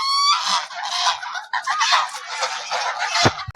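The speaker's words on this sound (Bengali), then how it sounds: "সবগুলো হাঁস নিয়ে আসলো নানু" Domestic ducks being herded in a village, a near, loud, continuous clamour of overlapping honking quacks from several birds, ending with a couple of low thumps.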